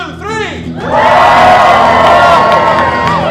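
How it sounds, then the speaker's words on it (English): A theatre audience at a Shakespeare comedy performance erupts into loud cheering and whooping after a brief lead-in, and the crowd noise holds steady and close for several seconds. "So I'm going to ask you to cheer for me."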